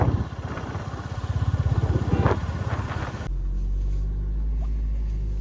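A Royal Enfield Bullet motorcycle engine thumps in a steady low rhythm for about three seconds, then gives way to a smoother constant low drone, ridden through an evening market.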